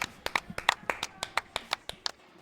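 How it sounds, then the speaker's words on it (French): A single person claps hands in a slow, irregular rhythm, about a dozen sharp, close claps over a couple of seconds while watching a Kings League football match, with little else audible. "Moi j'applaudis."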